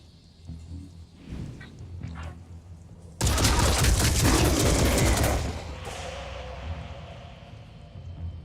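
Gunfire in a video game defense mission: scattered shots at first, then a loud sustained barrage of rapid firing and blasts for a couple of seconds, fading into a lingering rumble.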